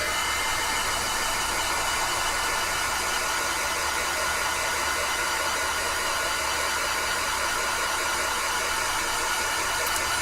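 A heat gun blowing hot air to set Distressed Embossing Glaze powder on a stamped craft piece: a constant, loud, even whooshing roar that holds steady for the whole stretch, with no talking.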